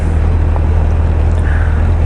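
A Honda CBF1000 motorcycle engine idles steadily with a constant low rumble and some wind noise over the microphone, with no talk.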